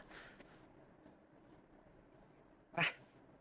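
A person imitates a single sharp dog bark with their voice, one short loud burst that stands out near the end after a few seconds of quiet room.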